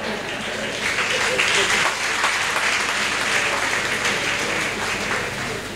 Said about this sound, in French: comme vous avez applaudi, je crois que vous m'avez compris